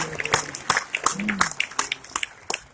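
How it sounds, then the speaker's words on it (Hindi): Audience applause at a business seminar, a scattered burst of hand claps with sharp individual claps standing out, moderately close and brief, with faint voices mixed in. "तालियां उनके लिए हो जाए"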